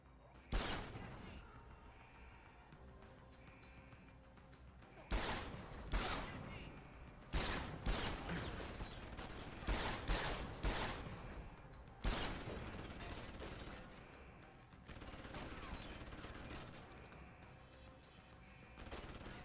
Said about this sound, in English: Oh hey, machine pistol's getting its day.